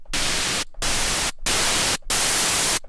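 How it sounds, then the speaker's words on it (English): Loud white noise generated in Ableton, hissing broadband static in four sustained bursts separated by brief silent gaps, with no voices. "Different types of white noises."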